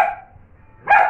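A dog barks twice in quick succession, short sharp yaps close by, separated by a brief quiet gap, with no talking.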